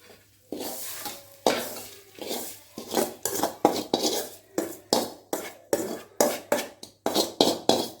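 A spoon scrapes and stirs sautéed onions and tomatoes out of a pan in a home kitchen: about fifteen distinct metallic scrapes in a steady rhythm, close and moderately loud, with no talking.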